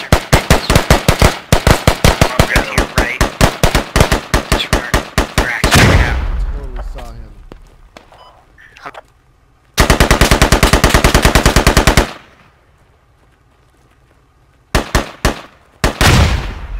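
Heavy automatic gunfire from a Humvee-mounted gun in the military shooter Squad: a long rapid burst, a pause, then another sustained burst and a short final volley, loud and close.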